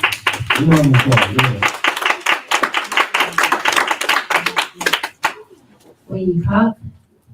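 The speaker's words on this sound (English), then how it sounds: "Round of applause." Round of applause at a Shabbat gathering. Crisp, dense clapping runs for several seconds alongside voices, then stops abruptly, and speech resumes after a short pause.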